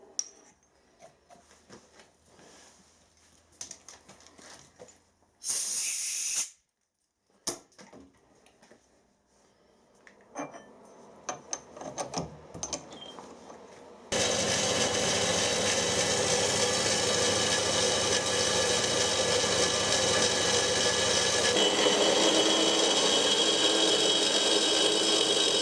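A milling machine fitted with a solid carbide cutter squares the ends of steel box section, its motor driven by an inverter with a jog feature. Brief intermittent bursts give way midway to a loud, continuous grinding cut.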